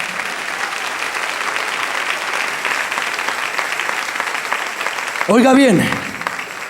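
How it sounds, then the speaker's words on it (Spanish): Church congregation applauds at a Spanish-language sermon, a loud sustained burst of clapping under a preacher's voice, ending with a brief loud shouted line from him. "Dale un aplauso al Señor."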